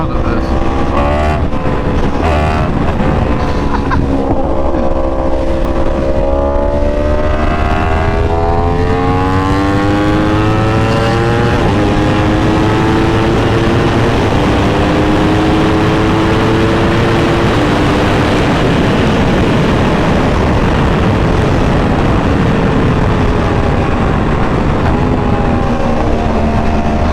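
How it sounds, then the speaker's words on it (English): A Yamaha R1 sport bike on the highway revs hard, its engine pitch climbing and falling through repeated rev-matched shifts, loud and close over steady wind and road roar. "The rev matching on the R1 sounds so good"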